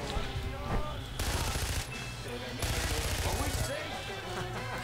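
Rapid automatic gunfire in Far Cry 4, loud dense bursts stopping and starting across the clip, with game sound and voices mixed underneath.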